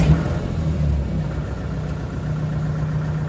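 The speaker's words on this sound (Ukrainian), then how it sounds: "От заводжу трактора." A tractor used for ploughing with a homemade plough runs with a steady, loud, low rumble close by, with no voices.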